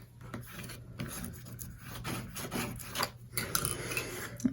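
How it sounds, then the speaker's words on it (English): A paper gusset for a 6½ x 6 Easter mini album being burnished flat from the inside, heard as quiet, close dry rubbing and scraping strokes in uneven passes, soft and continuous without talk. "And then we can burnish it on the inside."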